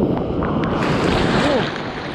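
Sea waves wash steadily around a fishing boat, a dense rushing surge mixed with wind buffeting the microphone, constant and fairly loud throughout.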